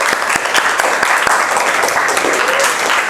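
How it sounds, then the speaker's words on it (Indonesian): A classroom of students claps for a student group, with dense, steady applause at close range that stays even for a few seconds. "tepuk tangan untuk kelompok 1 terlebih dahulu"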